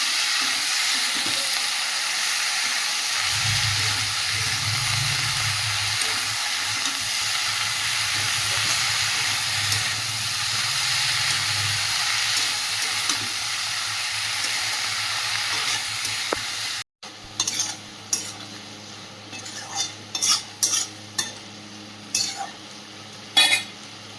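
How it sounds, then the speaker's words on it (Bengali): Malabar spinach (pui shak), with ridge gourd, potato and okra, sizzles steadily as it is sautéed in a pan, a constant frying hiss with stirring; after a brief cut, fainter scrapes and clinks follow. "পুঁই শাক সব দিয়ে দেবো ভালো করে কষিয়ে নেবো"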